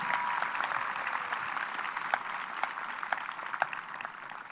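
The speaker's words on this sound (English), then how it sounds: "yes, you can clap for that." Steady applause from a commencement audience at Saddleback College fills the hall, a dense wash of many hands with a few sharper claps standing out, moderately loud and continuous throughout.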